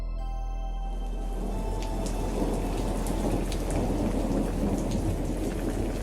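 A heavy rainstorm pours down in a TV drama scene, a dense, steady hiss of rain with deep thunder rumbling underneath and sharper cracks scattered through, loud and continuous after a brief fading tone at the start.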